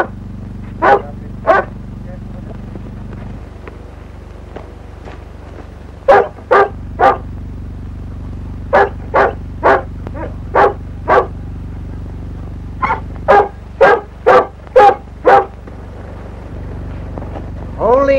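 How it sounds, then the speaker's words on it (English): A dog barks outdoors after rain in a 1938 film, sharp single and paired barks repeated in bursts over a low steady hum, loud and fairly close. "That's no wolf, it's a dog."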